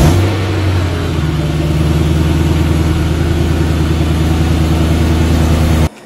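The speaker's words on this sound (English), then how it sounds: "today we're driving a 2000 BMW 328i" A 2000 BMW 328i E46 sport sedan engine running steadily while driving, a loud droning hum with a constant low tone, holding even until it cuts off abruptly near the end.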